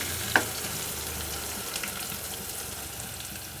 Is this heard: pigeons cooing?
no